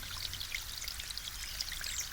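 Mountain spring water seeps through high rock in drops at the source of the Chorna Tysa river in Zakarpattia, making a faint, continuous close trickle and patter with no voices.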